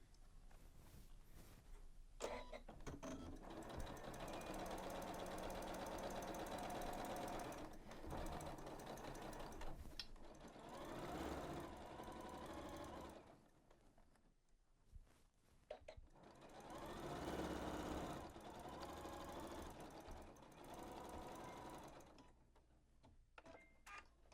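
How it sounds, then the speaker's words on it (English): A Janome sewing machine runs in several bursts stitching the top seam of a fabric bag on its free arm, a fast steady whirring chatter that stops and restarts, close and alone. "we're going to sew with a 1/2 inch seam allowance all the way around the top circumference of the bag"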